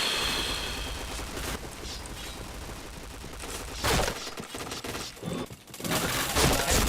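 Rapid gunfire bursts from a shooter video game, dense volleys of shots and impact cracks stacked loudly over a busy mix, with sharper heavy hits near the end.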